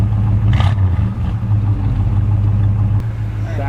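A classic car engine is blipped in a short test rev, a burst of throttle settling into a steady, fairly loud idle with faint clatter and a brief voice early on.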